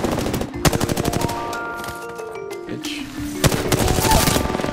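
Rapid automatic gunfire in Apex Legends, dense bursts of close shots loudly repeating, with a brief lull before another volley, over a sustained in-game tone and no talking.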